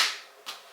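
A soft, fleshy slap of a volleyball meeting a bare forearm, followed by a second lighter smack moments later, close by and fairly quiet.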